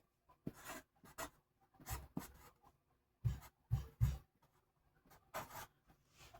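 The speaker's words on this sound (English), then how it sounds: "Then we're going to take our marker and write Yorkie." A marker squeaks and scratches across a label, writing a word in short separate strokes with pauses between them, close and quiet.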